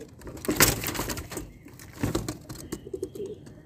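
Zeera pigeons, including a male, coo nearby in a few soft, throaty bursts, with brief wing or movement rustles in between and no talking.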